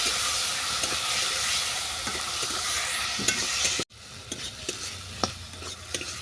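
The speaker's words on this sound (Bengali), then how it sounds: "এই সব উপকরণ আমি ভালো করে কষিয়ে নেব।" Turmeric and chilli powder sautéing in a pan for a bitter gourd curry make a continuous close sizzle, with scattered stirring scrapes and clicks and a brief break partway through.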